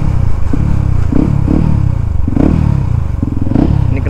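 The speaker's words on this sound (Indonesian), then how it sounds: "Ini knalpot agak bocor kayaknya." A motorcycle engine with an exhaust leaking at the slip-on joint runs steadily on a ride to Probolinggo, loud and close, with repeated throttle pulses and a rattly, clattering edge.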